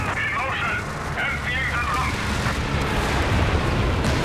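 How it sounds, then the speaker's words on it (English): A 17 pounder anti-tank gun firing high explosive shells in the World War II strategy game Company of Heroes 3, heard as a dense rumble of booms and explosions under continuous voice commentary. "Use the high explosive mode on the 17 pounder there. There's some big hits going."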